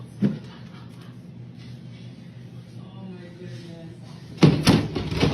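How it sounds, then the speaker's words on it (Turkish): After a quiet stretch with faint background voices, a door suddenly slams shut with a loud, sharp bang and a brief rattle. "Kapının aniden çarpılarak kapandığı anda Michael'ın sesindeki saf paniği görmezden ge"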